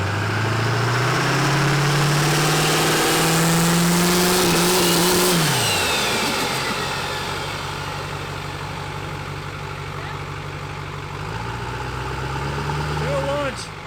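A 1300 HP Duramax diesel truck engine revs loudly up and holds, drops back to a rumbling idle, then climbs again, close and powerful throughout.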